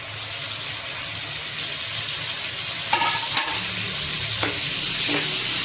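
Tomato pieces and rock salt stirred in a frying pan make a steady sizzle, with a few scraping clatters of the spoon against the pan near the end.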